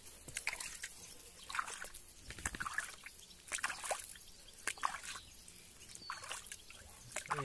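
An American bulldog laps water from a bowl, a quick irregular run of close, wet splashing and dripping laps with brief pauses, no talk over it.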